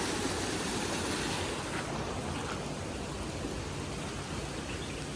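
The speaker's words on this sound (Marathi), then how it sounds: "तुमका मी दाखवतोय ह्यो आमचो व्हाळ असा" Rushing water roars steadily in a broad, continuous wash as a stream swollen and overflowing after a cloudburst flows in Sindhudurg, with no voices.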